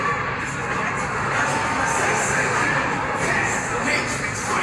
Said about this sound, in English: You can see the crowd excited.